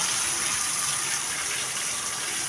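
Water gushes and splashes steadily as ice-cold water is poured over cattle during a bath, a continuous close, loud rush with no pauses.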